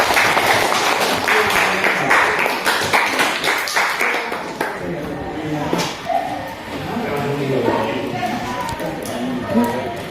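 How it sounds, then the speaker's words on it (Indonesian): A classroom group gives a round of applause for group 4, dense clapping from many hands at close range that thins out over several seconds as talking takes over. "Aplaus untuk kelompok 4."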